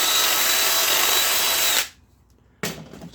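Power drill boring out a rivet on a Patriot Forester chipper/shredder, a loud steady whine grinding through metal for nearly two seconds, stopping abruptly, then starting up again after a short pause.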